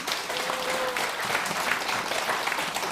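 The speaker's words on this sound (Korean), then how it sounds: "큰 박수로 환영해 주십시오" An audience claps warmly to welcome a guest lecturer to a special lecture, dense sustained applause filling the hall evenly from start to finish with no talking over it.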